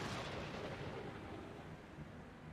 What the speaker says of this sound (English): There was a bunch of freaking fireworks.